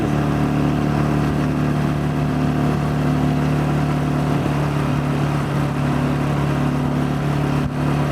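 A Geon X-Road light 250 motorcycle engine runs at high revs under acceleration, giving a loud, steady, close-up drone that holds for the whole stretch without any talking.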